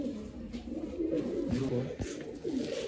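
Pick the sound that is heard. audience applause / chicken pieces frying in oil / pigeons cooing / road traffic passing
pigeons cooing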